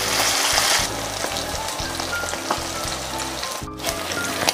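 Beef gepuk coated in palm sugar sizzling and spitting in a hot pan as pieces are flipped, a crackling frying hiss with brief clatters of turning, loud and close, without talk.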